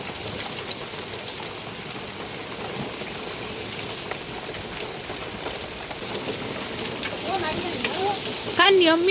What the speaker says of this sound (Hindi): ओले पे ओले पड़ रहे हैं।